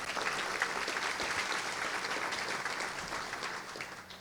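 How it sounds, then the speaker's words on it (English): A seated audience at a district civic address breaks into steady, dense applause, many hands clapping together at an even level throughout with no talk over it. "Let's give them all a round of applause."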